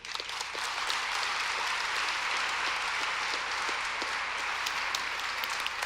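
Steady, fairly distant audience applause fills a community gathering hall for a speaker named James, an even wash of many hands clapping throughout with no voices.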